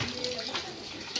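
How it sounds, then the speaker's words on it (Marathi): Water pours briefly into a pan of vegetables cooking for a village-style chicken curry, a short splashing trickle lasting just over a second with no talk. "आपल्याला थोडं पाणी घालून घ्यायचं आहे आणि भाजीला छान असं शिजू घालून द्यायचे आहे"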